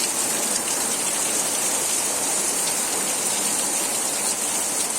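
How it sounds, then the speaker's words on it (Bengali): Heavy rain pours down steadily, a dense, loud, continuous hiss of water drumming on surfaces with no letup. "একদম পুরো মুসুলধারে বৃষ্টি হচ্ছে"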